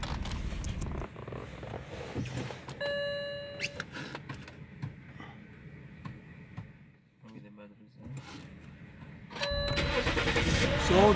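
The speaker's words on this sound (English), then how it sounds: "So the car is starting" A 2006 BMW 3 Series engine cranks and starts, then idles, heard alongside beeps, clicks and voices talking nearby.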